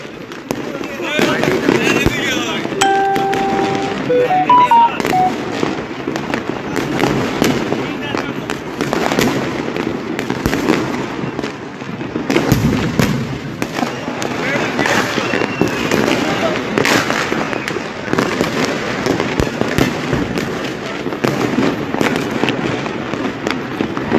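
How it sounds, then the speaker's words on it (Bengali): Firecrackers and fireworks burst repeatedly across a city on a New Year's night, a dense, ongoing crackle and bang of near and distant explosions, with people talking throughout. "পটকার যে আওয়াজ এবং পটকার যে ঝলকানি, আতশবাজির যে ঝলকানি সেটি কিন্তু বাড়ছে।"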